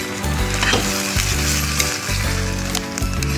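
Chopped garlic chives sizzle loudly in a hot pan over high heat while being stirred and tossed, a steady crackling hiss with occasional scraping and clatter, close and continuous.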